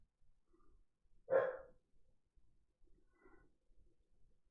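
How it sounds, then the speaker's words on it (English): A single dog bark rings out at a distance, faint and alone in an otherwise quiet night, followed by a few very soft, indistinct yips. "the dogs have decided to start talking to each other. They're just barking at random."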